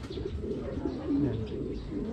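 Pigeons coo softly inside a loft, a few low murmuring calls rising and falling against faint background rustle, fairly close but quiet.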